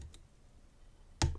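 A Fontaine 56 lock being picked gives a faint tiny click early on, then a sharper, louder metallic click near the end in an otherwise quiet room.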